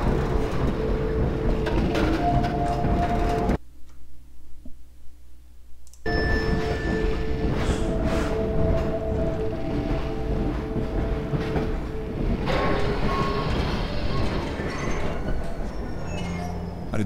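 Train travel in Half-Life 2: a loud continuous rail rumble with clatter and occasional squeals, briefly dropping to near silence before the rumbling ride resumes.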